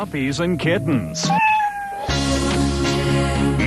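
A cat meows several times in quick succession, close and loud, ending with a longer drawn-out cry.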